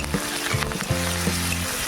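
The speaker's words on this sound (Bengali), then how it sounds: "চিংড়ি মাছগুলো দিয়ে ভালোভাবে ভাজা ভাজা মতো করে নেব।" Shrimp sizzle in hot oil in a wok alongside fried onion and green chilli, a dense crackle broken by a few sharp clinks of a spatula against the pan.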